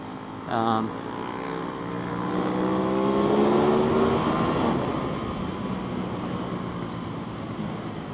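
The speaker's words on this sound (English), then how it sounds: "not only the motor, which is really awesome, has a great sound" An Aprilia RS660 motorcycle on a racetrack, its engine note rising and falling in a sustained whine that swells in the middle and then settles into a steady drone.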